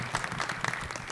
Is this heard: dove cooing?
no